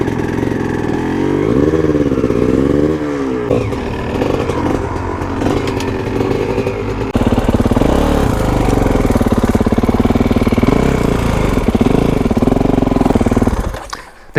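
A Kawasaki KX450X dirt bike engine revs and labors loudly up a hillclimb, its pitch rising and falling through throttle blips and sustained pulls before it cuts off abruptly at the end.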